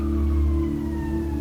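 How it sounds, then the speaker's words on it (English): A siren wailing faintly in the distance over a low steady rumble, with a slow falling tone. "And now we have the sirens."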